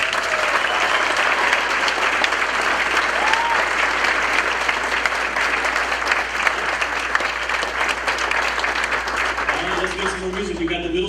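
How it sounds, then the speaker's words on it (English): An audience at a cafe jazz concert applauds middle school jazz students, loud sustained clapping lasting about ten seconds before tapering, with a hum underneath and a few voices rising at the end. "So let's give them a round of applause."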